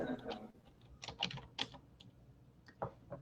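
Soft, irregular clicks of someone typing on a computer keyboard, entering Japanese characters, come in quick short runs with small pauses, quiet and close with no talking.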